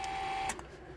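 A restored 1967-70 Cadillac Eldorado power seat slides forward and back on new slide guides with a steady, quiet motor whir, broken by two soft clicks near the middle.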